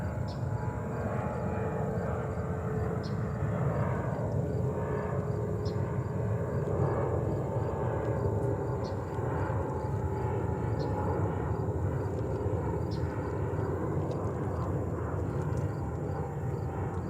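An airliner flies near JFK airport in New York, a steady broad engine roar that holds for the whole stretch, with faint regular ticking beneath it.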